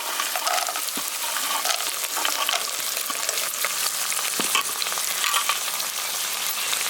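Peanuts, chopped ginger, dry chili and curry leaves fry in hot oil for village-style lemon rice, a steady dense sizzle crackling throughout with a few sharp pops and the scrape of stirring, close and alone without voices.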